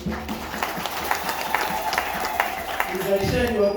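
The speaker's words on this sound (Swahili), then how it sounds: "tukupongeze kwa kupiga makofi" A church congregation in a cathedral applauds a catechist: a dense, steady patter of many hands clapping together, mixed with voices speaking over it.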